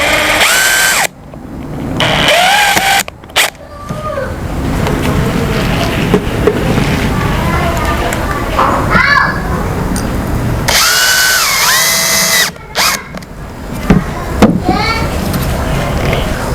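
A power drill drives screws into a black soldier fly bait box. Loud whirring bursts rise and stop repeatedly, with brief pauses between them, and a voice is faintly audible underneath.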